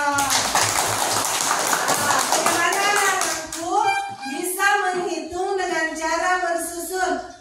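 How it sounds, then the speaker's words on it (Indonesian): Children in an Indonesian classroom clap together for a classmate, a dense burst of many small hands over the first few seconds, then giving way to children's voices chattering and calling out. "Tepuk tangan untuk Tiara."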